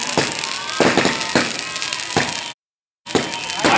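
Firecrackers go off at a public political meeting as a run of sharp cracking bursts, loud and close, followed by a brief silent cut and then more crackling.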